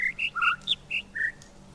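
A string of short bright bird chirps and whistled notes, about seven in a quick uneven run at varied pitches, close and clear in a quiet setting.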